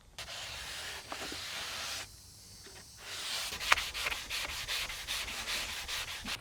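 A cloth rubs oil back and forth into a weathered cedar timber window in steady, rhythmic strokes of soft hissing friction, with a brief pause partway through.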